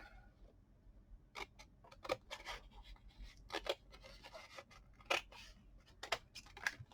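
Scissors snip through paper cutting out small heart shapes for Valentine's crafts, a series of sharp, close, irregular clicks and crisp cuts spread over several seconds with no talking.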